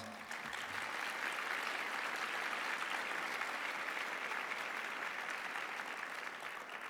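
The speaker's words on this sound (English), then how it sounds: "If we can ask you to give them a big round of applause." An audience at a 2017 presidential address breaks into sustained applause, steady and dense throughout, heard from within the room with no talking over it.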